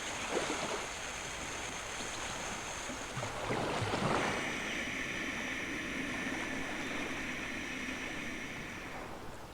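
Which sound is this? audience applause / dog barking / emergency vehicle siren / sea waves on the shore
sea waves on the shore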